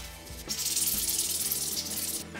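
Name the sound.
sanding a 3D printed shotgun part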